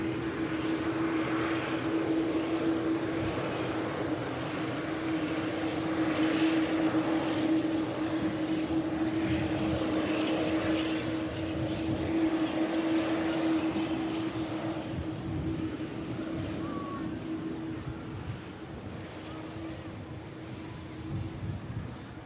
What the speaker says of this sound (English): And the 321 Neo about to touch down